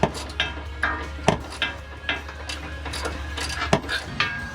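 A ratchet wrench tightens 13 mm bolts on a steel skid plate under a 2017 Toyota Tacoma, giving a close run of quick clicks in short bursts with a few sharper knocks and a low hum underneath.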